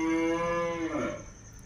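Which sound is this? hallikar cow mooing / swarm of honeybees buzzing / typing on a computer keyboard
hallikar cow mooing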